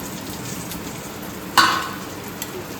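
A fish dropped onto a hot tava for an Andhra-style fry sets off a sudden loud sizzle that spikes and then settles into a steady fainter crackle, with no talking.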